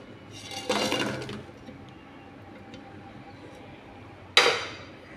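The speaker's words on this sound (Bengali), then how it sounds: "এবার আমি শিরার মধ্যে ঢেলে দেব।" Fried gulab jamun (langcha) dumplings tipped from a pan into sugar syrup give a short splashing clatter, then a second brief, sharper pour-splash near the end against quiet kitchen background.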